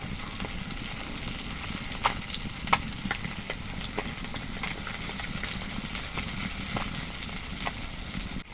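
River fish fry in a pan with a constant close sizzle, dotted with sharp crackles and pops scattered throughout.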